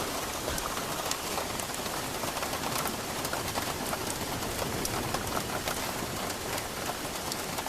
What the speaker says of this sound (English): now we're listening to the rain on the roof of the super bus